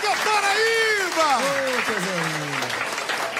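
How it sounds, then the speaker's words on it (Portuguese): An audience claps in tribute during a live music broadcast, the applause running steadily under a loud, sustained voice with sweeping vocal tones. "Merece uma salva de palmas."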